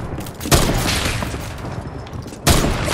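Two heavy sniper rifle shots from a video game, each a sharp loud blast followed by rumbling noise, spaced about two seconds apart.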